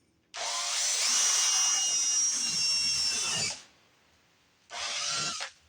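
Power drill spinning at high speed as it bores into a wooden breadboard end, a loud steady whine for about three seconds, then a shorter second burst after a brief pause.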